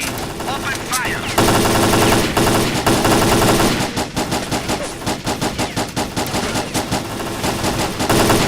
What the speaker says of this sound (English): Attention all fighters. Let's clear a path for Leshi. Open fire.